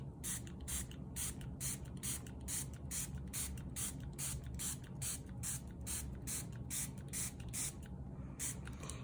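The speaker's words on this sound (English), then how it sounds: "So now I'm just gonna start spraying." Rapid repeated bursts of a spray bottle misting colour onto a mixed media tag, a steady hissing rhythm of close short sprays with no talking.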